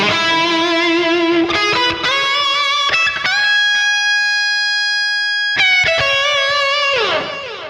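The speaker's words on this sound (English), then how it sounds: "Maybe add some hall reverb." Electric guitar through an STL Tones preset with hall reverb added, distorted chords and single notes ringing into a long, spacious sustained tone before more playing resumes, loud and close with no talking.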